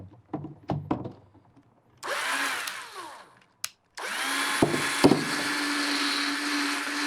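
A drill bores a small hole in a plastic bottle cap: a few handling knocks, then two whirring runs of the drill, the second longer and steady, with a clack between them.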